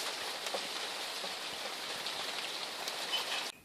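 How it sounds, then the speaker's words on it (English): Hard rain falls in a steady, dense hiss with scattered louder drops hitting surfaces nearby, continuous until it cuts off abruptly near the end. "raining."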